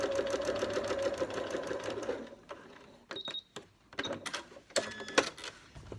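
Sewing machine stitching bias binding for piping, a close rapid whirring run that stops midway, followed by soft handling clicks and rustles of fabric.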